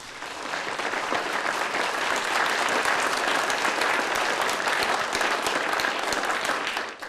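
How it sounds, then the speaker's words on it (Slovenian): A large crowd applauds steadily at a polka music show, loud and continuous clapping that swells quickly and holds for several seconds before tapering at the end. "En velik aplavz."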